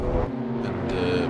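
Race car in a sim racing game braking hard into a corner at Imola, engine droning loudly throughout with a brief tyre lock-up squeal partway through.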